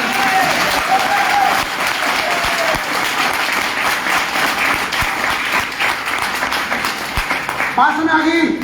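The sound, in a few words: audience clapping loudly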